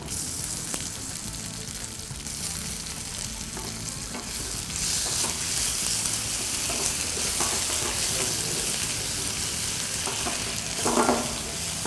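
Green chillies and ginger garlic paste sauté in a hot pan for a brinjal fish gravy, a continuous close sizzle with stirring scrapes and a brief louder hiss near the end.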